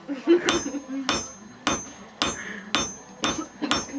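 A blacksmith at a Boyko village forge hammers hot metal, sending out a steady series of seven sharp ringing blows about half a second apart, close and clear, with faint clinks between strikes.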